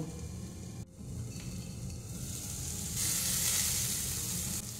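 Paneer tikka filling sizzling in a pan as its water cooks off, a loud continuous hiss and crackle close by, with a brief dip early on and the sizzle swelling brighter toward the end.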